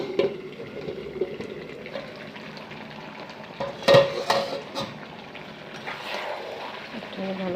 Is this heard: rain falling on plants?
no